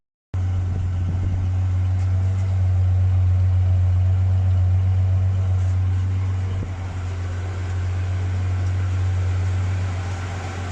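Holden 202 blue motor car driving with a steady loud engine drone and low hum throughout, close by; any lifter ticking is not clearly separated from the drone, and no one talks.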